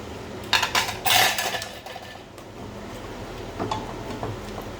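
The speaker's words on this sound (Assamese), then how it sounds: "এতিয়া মই ঢাকনিখন খুলি দিলোঁ।" A metal lid lifted off a pot of boiling milk and rice for Assamese kheer, giving a few close clinks and clatters near the start, then a softer lid sound after a quiet stretch.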